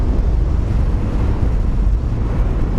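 Loud, constant wind buffets the microphone with a low, rumbling roar at a pineapple plantation in Bukidnon, steady throughout with no voices.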